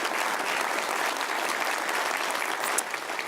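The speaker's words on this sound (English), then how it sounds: "Give yourself a round of applause for that." An audience at an annual meeting breaks into a round of applause, dense steady clapping from many hands filling the room at even loudness throughout, with no voices over it.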